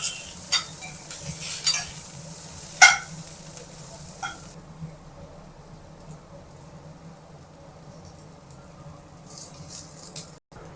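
Small shallots softening in a pan for an egg beetroot rice dish, giving a quiet steady sizzle with occasional scrapes and clinks of a stirring utensil, then near silence before a few more stirring sounds at the end; no talking.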